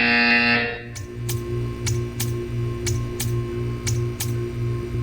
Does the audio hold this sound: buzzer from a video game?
yes